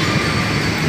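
An LRT light rail train runs at Blumentritt Station in Manila, a brief, steady rumble of the rail car that stays fairly loud and even from start to finish.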